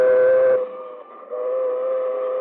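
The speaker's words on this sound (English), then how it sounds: "And here comes the train." A train sounds its horn approaching a railroad crossing with automatic signals, a loud sustained two-tone blast that breaks off, then resumes as it passes, in a 1945 radio drama sound effect.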